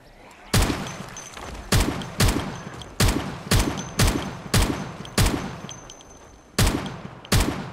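Gunfire in the video game Project Zomboid: about a dozen sharp, loud shots, some in quick pairs, in an uneven rhythm, each with a short decaying tail over a faint background.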